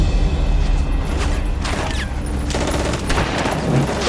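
Dense battle din from a D-Day beach landing reenactment, with continuous scattered rifle and machine-gun fire over a roaring wash of background noise and occasional heavier booms.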